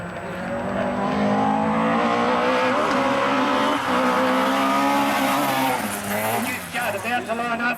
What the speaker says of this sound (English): Neil Bates is going to have some fun too in the Toyota